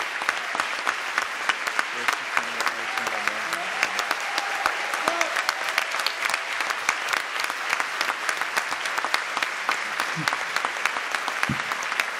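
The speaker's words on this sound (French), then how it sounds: "On les applaudit bien fort." An audience in the stands claps hard for a team at a closing session, a thick, continuous patter of many hands with crisp individual claps standing out, loud and unbroken throughout.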